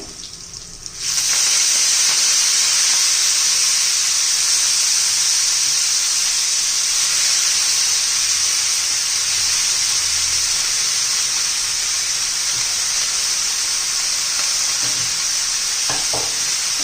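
Fresh fenugreek leaves tossed into a hot pan of garlic sizzle loudly at once, a steady bright frying hiss that holds for the whole stretch with faint stirring clinks near the end.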